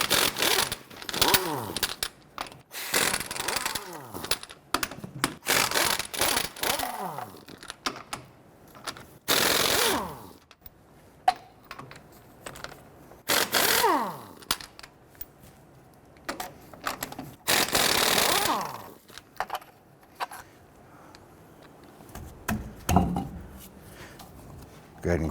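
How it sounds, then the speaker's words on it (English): An impact wrench or ratchet on a 21mm socket loosens the lug nuts on a rear wheel of a Nissan Frontier pickup, with repeated loud mechanical bursts separated by pauses and gaps of quiet. "Using a 21mm socket, go ahead and loosen and remove your lug nuts."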